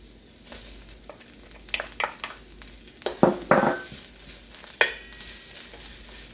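Onion frying in oil in a pan while cooking Korean japchae with sweet potato glass noodles: a steady sizzle with scattered sharp clatters of stirring, mid-loud and close, no talking.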